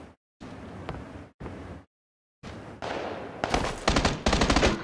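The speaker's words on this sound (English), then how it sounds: "How'd that guy take two shotgun shells to the chest?" Gunfire in PlayerUnknown's Battlegrounds, including shotgun blasts, as several loud bursts separated by silent gaps, then a dense rapid volley of repeated shots building at the end.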